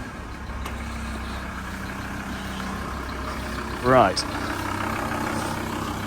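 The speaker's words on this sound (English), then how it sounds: "I'll just show you what happens when you start one of these vehicles up." A 2004 Volkswagen LT46 van's diesel engine starts and idles with a steady low rumble throughout, a brief whine rising in the middle, and a single short spoken word.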